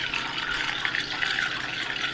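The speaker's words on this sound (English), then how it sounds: "as you can tell that I'm pouring" Sangria soda poured into a glass, a steady hissy splashing stream of liquid lasting a couple of seconds, close and alone.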